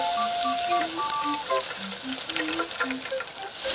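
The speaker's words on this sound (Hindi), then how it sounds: "उसके बाद इसे गर्म तेल में डालकर तल लो।" Karaage frying: pieces of meat coated in flour batter crackle and sizzle steadily in hot oil, a dense close bubbling hiss with scattered pops throughout.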